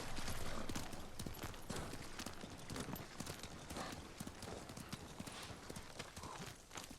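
Video-game horse hooves clip-clop in a steady rhythm, loud and close, with a busy outdoor backdrop underneath, in Ghost of Tsushima.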